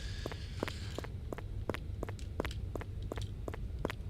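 Footsteps in the horror video game Anomaly Horror in Kamakura, a steady walking rhythm of about a dozen crisp, close steps over a low ambient hum, with no talking.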